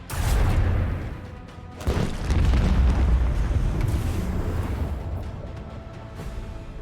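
Heavy torpedo explosions in the video game Rogue Trader, loud booming blasts with a rumbling tail, one burst near the start and a longer rolling detonation from about two seconds on.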